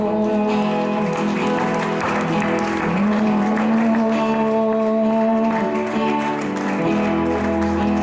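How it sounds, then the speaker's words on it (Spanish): A church congregation claps together over sustained organ or keyboard chords and voices, with the clapping steady and fairly loud throughout. "Un aplauso al Señor."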